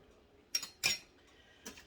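Whole cranberries tumbling into glass canning jars, a few short clinking and rattling bursts spaced apart, close and fairly quiet, with no talking.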